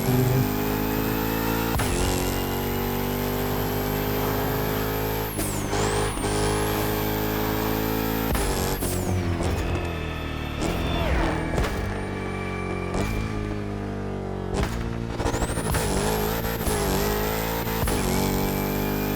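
A car engine in the racing game The Crew Motorsport revs hard and repeatedly, loud rising and falling whines broken by sharp backfire pops, close and continuous with no talking.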